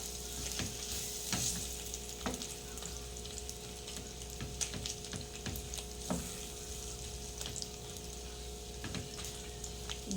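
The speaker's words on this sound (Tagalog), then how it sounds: "sayang yung lasa ng pinagprituhan, kaya lagyan ko ng saging saba" Saba bananas frying in leftover beef tapa oil give a steady, close sizzle with crackling pops and occasional stirring scrapes, with no voices.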